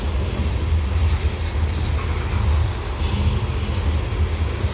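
A slow-moving CSX coal train climbing Pars Ridge near Bartholows, Maryland, heard as a steady, heavy low rumble with a broad roar above it, continuous and fairly loud, with no voices.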